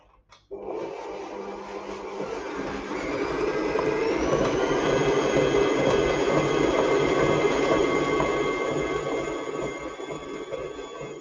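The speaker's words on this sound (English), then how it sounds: "I'm going to cream this together so that it sort of goes even and light and fluffy" An electric mixer creams margarine for vanilla cupcakes, starting abruptly with a click and then whirring steadily, its pitch rising slightly as it settles into a loud, continuous drone.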